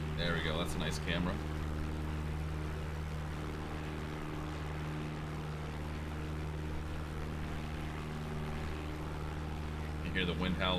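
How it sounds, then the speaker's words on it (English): Steady broadband wind roar over a constant low engine drone in a flight simulator with a JustFlight PA-38 Tomahawk light aircraft, continuous and loud throughout, with brief higher clicks near the start and end. "You hear the wind howling here."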